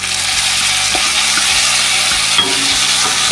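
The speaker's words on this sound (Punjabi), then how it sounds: "ਪਿਆਜ਼ ਨੂੰ ਵੀ ਅਸੀਂ 3-4 ਮਿੰਟ ਭੁੰਨ ਲਿਆ ਜੀ" Grated onion and garlic fry in a pan with a loud, steady, dense sizzle that runs without a break and has no voices over it.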